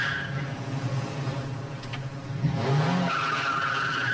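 A car skids with squealing tires in a 1978 French film scene, a sustained screech of rubber over engine noise, loud and close, with no crash impact clearly standing out.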